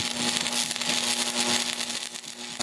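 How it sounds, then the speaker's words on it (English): Miller Thunderbolt stick welder at work outdoors beside a portable welding table, a steady crackling, sizzling arc with a low constant hum running underneath, close and continuous throughout, no talking. "You can hear that Miller Thunderbolt groaning in the background"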